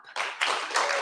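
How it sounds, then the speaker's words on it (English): Audience clapping at the close of a student union leadership hustings event, a brief burst of applause that swells in two surges, fairly loud and close, with no talk over it. "Can we have a clap?"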